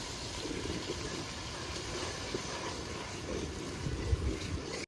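Water pours steadily into a pan of Bengali doi katla, a curd-based rohu fish curry, giving a continuous close gushing and splashing wash with no talk over it.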